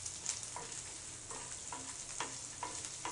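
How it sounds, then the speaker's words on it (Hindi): Chopped onions sizzle in a pan with garlic, frying steadily while a spoon stirs them in soft scraping strokes that recur every half second or so, the hiss quiet and close. "अब हम इसमें ये कटे हुए प्याज डाल देंगे। इसको चला के फिर हम अच्छे से भून लेंगे।"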